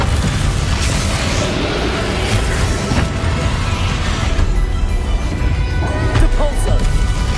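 An explosive Confringo spell in the Hogwarts Legacy video game, a loud, continuous barrage of booming crashes and smashing impacts with battle noise, with a voice calling out over the din.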